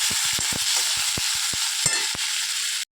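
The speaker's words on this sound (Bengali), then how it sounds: "তো এই পেঁয়াজ আর টমেটোটাকে নরম করে একটু ভেজে নেবে" Onion and tomato frying in a pan with a steady loud sizzle, broken by repeated clinks and scrapes of a spatula stirring, close up, no voices.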